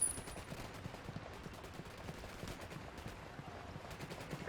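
Gunfire in Ghost Recon: Wildlands, rapid bursts of fairly faint shots rattling continuously in the background.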